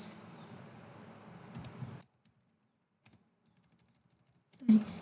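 Keystrokes on a computer keyboard while code is entered into a GUI form in the Eclipse editor, a steady soft patter for about two seconds, then near silence with a few isolated clicks and a louder burst of taps at the end.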